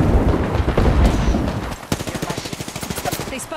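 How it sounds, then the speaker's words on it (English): Gunfire in Apex Legends, a chaotic jumble of shots and impacts giving way to a rapid, evenly spaced burst of automatic fire, loud and close. "They spotted me. I'm taking shots."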